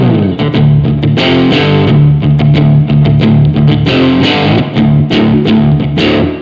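Loud, heavily distorted electric guitar through an amp simulator playing chugging rhythmic metal riffs with sharp picked attacks, steady and close throughout.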